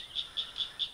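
Outdoor frogs give four evenly spaced, high-pitched croaks at a brisk rhythm, soft and distant, with no voices over them.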